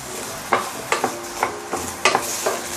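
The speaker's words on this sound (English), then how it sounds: "we're just going to dry roast this" Dry scraping and rattling in a pot while dry roasting ingredients until charred, a series of short stirring strokes roughly every half second over a steady low hiss.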